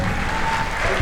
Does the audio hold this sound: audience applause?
yes